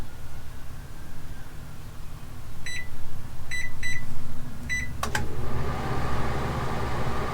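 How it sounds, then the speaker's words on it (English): A convection oven is set and started: a few short, high electronic beeps from the keypad, a sharp click, then the fan and heating element settle into a steady whooshing hum that continues to the end. "Convection oven. 325. Start."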